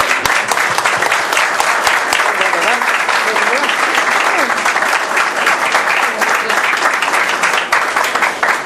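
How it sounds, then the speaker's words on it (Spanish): Sustained audience applause fills a political party's local office opening in Arroyo Dulce, dense and steady throughout, with crowd noise mixed in and no clear talk on top. "Un aplauso para ellos, por favor."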